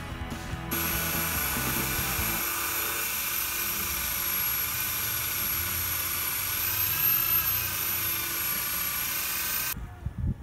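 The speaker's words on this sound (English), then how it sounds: "Apply some green compound like this and start buffing it." Motorcycle engine case being buffed to a shine with green polishing compound: a steady, loud mechanical whirring drone with a thin high whine, running continuously for about ten seconds before cutting off.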